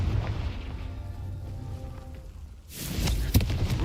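Confringo blasting spell in Hogwarts Legacy: a low rumbling hum gives way to a sudden booming burst near the end, with crackling debris after the blast.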